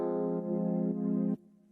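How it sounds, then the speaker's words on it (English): A layered Rhodes electric piano and soft pad synth play a sustained chord in Ableton, a warm steady tone with a slight change near the middle before cutting to a quiet tail, no voices. "I used a Rhodes layer and a pad layer that sounds like this"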